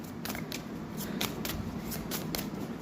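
Oracle cards, a deck slightly bent from storage, being shuffled by hand: a steady run of soft papery riffles and flicks, close and fairly quiet, with no one speaking.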